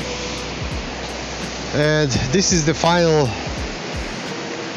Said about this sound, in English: all the way down at the bottom of the Gostilje waterfalls